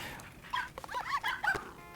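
Small cartoon dogs in the Nintendogs video game yip, whimper and bark in a quick run of high, bright cries over a faint background hum.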